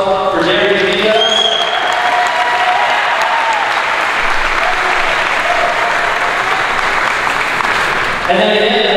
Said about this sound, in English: So a big round of applause for Darian Diaz.